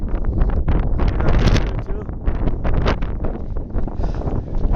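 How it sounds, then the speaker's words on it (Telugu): Strong, cold wind gusts hard against the microphone among snow and glaciers on the Everest Base Camp trek, a loud continuous rumbling roar that swells and dips throughout. "చాలా గాలి వస్తుంది ఇక్కడ"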